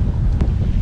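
Strong wind buffets the microphone by a river, a loud low rumbling roar with a brief gust peak in under a second.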